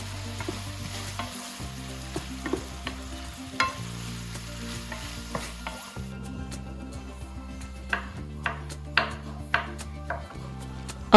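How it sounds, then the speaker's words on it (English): A pound of ground beef browns in a pan on a stovetop, sizzling steadily while a utensil scrapes and stirs it in repeated strokes, with low background hum and occasional clicks of metal against the pan. "starting off by browning a pound of ground beef on the stove"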